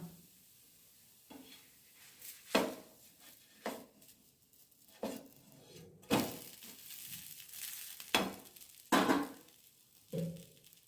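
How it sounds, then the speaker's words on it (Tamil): A ragi and drumstick-leaf adai cooks in oil on a pan, giving faint, intermittent sizzling crackles and soft bursts spaced a second or two apart, with no talking. "எண்ணெய் விட்டு ஒரு மூடி போட்டு வேக விடணும்."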